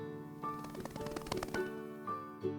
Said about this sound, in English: It's a moth.